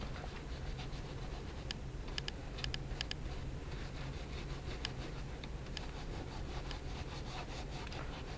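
A tissue rubs across journal paper on a table in a soft, steady scrubbing hiss, faint and close, with a few light taps mixed in and no voices.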